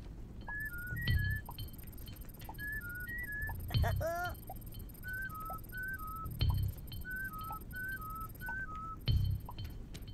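Short whistled melodic phrases repeat in groups of four, with a brief rising whistle in the middle, over low background hum and occasional soft thumps, in the video game Oddworld.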